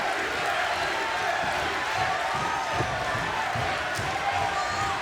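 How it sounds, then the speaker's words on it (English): A wrestling arena crowd roars and chants for the challenger Aries: a dense, continuous wall of loud crowd noise holds steady from start to finish. "Crowd roaring, chanting the name of the challenger"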